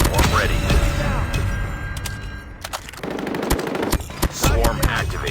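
Switchblade X9 submachine gun fire in the video game COD Mobile: loud, rapid continuous bursts with sharp cracks and thumps over busy battle noise, with in-game voice callouts mixed in.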